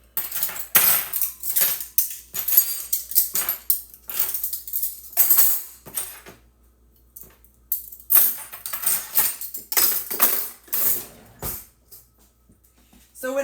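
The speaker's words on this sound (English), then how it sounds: "I'm putting my dishes away." Dishes, cutlery and pans are put away at home, with bursts of clattering and clinking metal and ceramic knocks arriving in irregular clusters, close and fairly loud.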